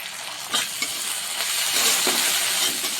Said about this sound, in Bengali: মুগ ডালটা একটু ভেজে নিতে হবে।